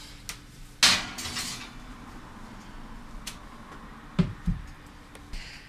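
A pan of graham cracker crust taken out of the oven, heard as a sharp metallic clatter followed by a few quieter knocks and clinks of the pan being set down in a quiet kitchen.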